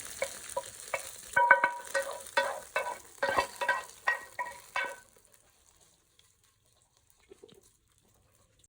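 Curry leaves and dried red chillies frying in hot oil, crackling in a dense run of sharp pops for about five seconds before falling almost silent, with only a few faint ticks after.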